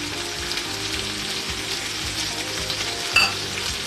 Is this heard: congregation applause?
no